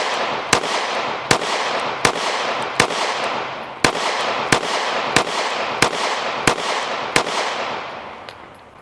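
Single shots from a Smith & Wesson CSX Micro 9 pistol, fired one-handed at a range, about eleven sharp reports in a fairly even rhythm roughly every two-thirds of a second over a steady outdoor noise bed, no talk.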